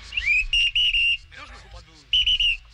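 A man whistles short, bright, clear phrases in place of speech during a film scene, with brief pauses and faint voices between the whistled bursts.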